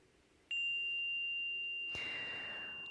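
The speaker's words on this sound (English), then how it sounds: "Let's begin our practice by inviting a chime to sing." A meditation chime is struck once at the start of a group practice, giving a clear pure ringing tone that sustains and slowly decays, followed by a soft second strike or touch that adds a brief wash of sound.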